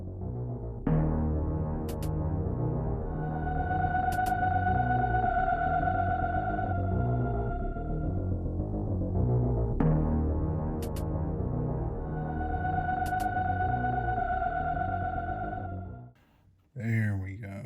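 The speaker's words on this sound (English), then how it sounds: "Please excuse the fan noise." Steady fan noise fills the room behind electronics work on a SNES Jr console mod, a constant broadband whoosh with a low hum and faint tonal whine, running nearly unbroken before a brief dip and a short voice at the end.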